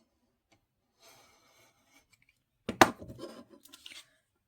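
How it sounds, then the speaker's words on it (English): A blade drags along a ruler to slice a strip of scrapbook paper, a short close scraping cut that follows a faint rustle, then a few light scratchy taps. "you take your ruler down here at this valley of this notch, and then you cut this strip off"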